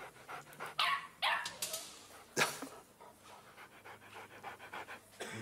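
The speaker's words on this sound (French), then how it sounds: "Il fait jouer le chien, un chien virtuel, sur une table réelle." A virtual dog in an augmented reality app, shown playing on a real table, pants rapidly with a few short yelps and whimpers in between, close by and without talk.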